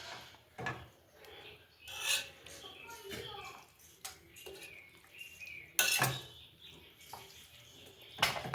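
A utensil scrapes and stirs a homemade Ayurvedic preparation in a pot, giving irregular rasping strokes and metallic scrapes, a few sharper clanks standing out, while someone talks intermittently.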